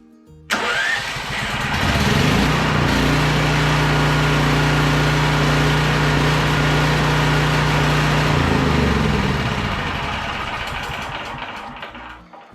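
A Champion 5500 watt generator cranks and catches after half a second, then runs loud and steady with a strong low engine hum that eases off near the end.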